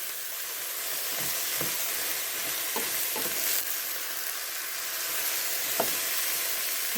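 Squash and shrimp sizzle steadily in a hot pan, a dense, even frying hiss with a few soft clicks and stirring scrapes, close up and with no talking.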